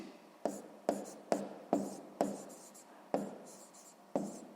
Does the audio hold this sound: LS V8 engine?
no